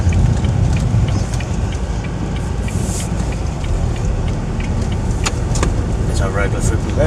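A Porsche rolling into a car boot sale, a steady close engine hum and tyre noise running under ongoing talk, with a few brief clicks and rattles.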